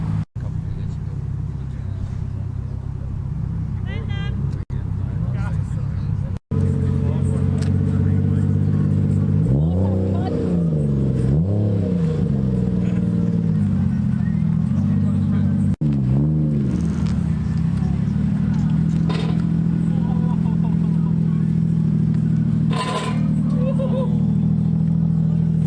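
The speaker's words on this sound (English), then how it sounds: "People are starting their engines over here, so might get some departures in a minute." Cars at a Japanese car show start up and rev, deep engine rumble rising and falling in several throttle blips close by, over crowd noise and someone talking.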